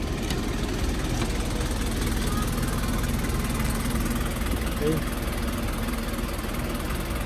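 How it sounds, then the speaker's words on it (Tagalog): A Nissan QD32 diesel engine, freshly overhauled, runs at a steady idle with a constant low rumble throughout, while someone speaks briefly over it. "maririnig nyo yung andar, parang brand new"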